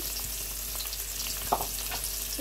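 Chopped onion, chopped ginger and garlic-ginger paste fry in hot oil in a pan used for koi fish curry with potatoes, giving a steady close sizzle with faint stirring scrapes and one brief louder clatter midway.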